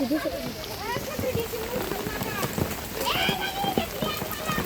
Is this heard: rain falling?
yes